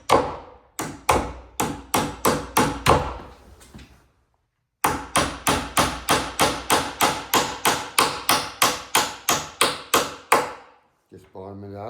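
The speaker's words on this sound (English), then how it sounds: "and I use a little hammer." Small hammer tapping a bifold door adjuster in a six-panel bifold door install, a loud close run of sharp rhythmic knocks, a pause, then a longer steady series of taps.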